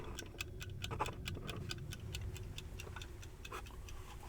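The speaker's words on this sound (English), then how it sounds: "I hear something ticking" Steady close ticking from inside a mail-order package of collectible toys, an even clock-like tick repeating about twice a second, faint and alone with no voices.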